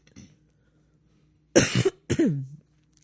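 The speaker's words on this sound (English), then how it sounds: "It's not COVID. It's a smoker's cough." After a short quiet, a person gives two harsh, raspy smoker's coughs close by, the second ending in a drawn-out wheezy groan.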